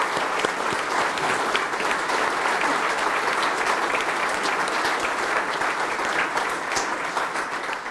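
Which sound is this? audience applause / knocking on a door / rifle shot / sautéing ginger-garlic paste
audience applause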